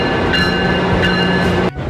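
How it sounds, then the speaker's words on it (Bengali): A double-decker local train arrives at a Toronto station with a close, steady mechanical rumble and a faint tonal whine, ending abruptly after under two seconds. "এই আমাদের বাড়ি যাওয়ার ট্রেন এসে গেল,"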